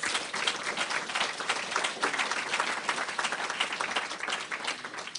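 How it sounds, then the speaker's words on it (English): Audience applause at a keynote address marking an anniversary, a dense, steady wash of many hands clapping that holds at an even, fairly loud level throughout with no voices over it. "Can we give them a big round of applause?"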